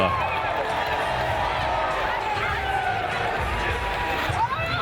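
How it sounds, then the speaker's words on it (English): Crowd at a roller derby bout cheers and roars continuously, a loud dense wash of voices with a knock near the end. "And the crowd goes wild."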